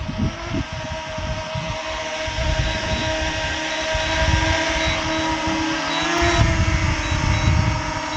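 A DJI Mini 2 SE drone returning home and descending to land outdoors, its steady high-pitched propeller whine running throughout under rumbling wind noise, growing slightly louder as it comes closer.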